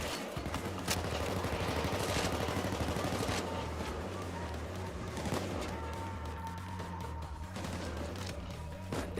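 Sustained Payday 2 gunfire rattles on in a heavy fusillade, dense overlapping shots with sharper cracks standing out, loud and continuous throughout.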